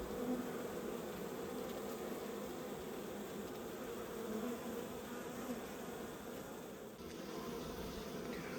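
Bees buzz inside a clear hive, a dense, steady drone of many insects, faint and continuous with no voices over it.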